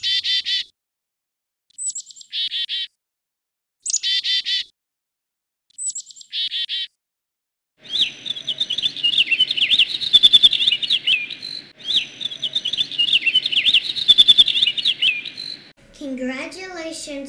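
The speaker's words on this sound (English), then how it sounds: "let's take a listen to what chickadees and bluebirds sound like and look like" Chickadee and bluebird calls: first short, bright, repeated call phrases separated by silences, then a longer continuous stretch of high chirping song over faint background, ending with a brief voice.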